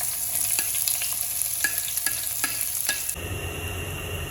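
Chopped onions sizzle steadily in hot coconut oil for Kerala-style chicken biryani, with regular scraping stirs up close. The sizzle swells into a louder, rougher frying hiss near the end, and no one speaks.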